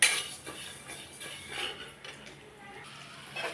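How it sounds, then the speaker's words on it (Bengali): A spoon scrapes and clinks against a hot pan as mung dal dry-fries, irregular metallic stirring sounds, fairly faint and close, with no talking. "ডালটা আমার ভালোভাবে ভাজা হয়ে গেছে"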